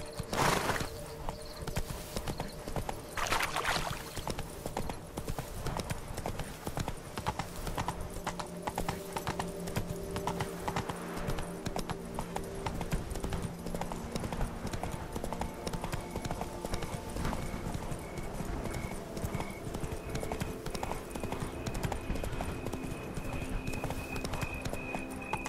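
Horse hooves in The Witcher 3: Wild Hunt – Blood and Wine, a steady, rhythmic clip-clop gallop that runs the whole time, with faint tonal game sounds underneath.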